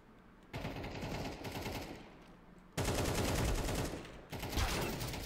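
Enemy rifle fire in Counter-Strike 2 rattles out in three dense bursts of rapid automatic shots, loud and close, with brief lulls between them and no talking.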